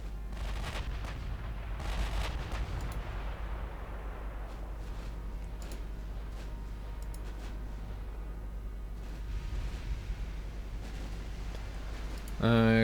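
Naval cruiser gunfire in the warship strategy game Ultimate Admiral Dreadnoughts, scattered booming shots and distant rumbling salvos over a low droning bed, mixed under a player's voice talking.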